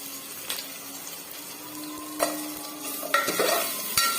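Carrot and mushroom pieces sizzle in hot oil after garlic paste, for a mushroom biryani, with a steady fry hiss broken by several sharp spatula scrapes and stirs, close and alone with no talk.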